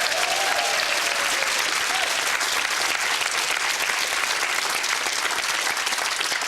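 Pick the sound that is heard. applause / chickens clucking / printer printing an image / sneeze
applause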